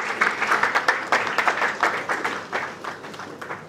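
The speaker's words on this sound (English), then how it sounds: "A round of applause." An audience at a celebrity panel event applauding at the close, a dense burst of clapping that is loud at first, then thins out and fades over a few seconds.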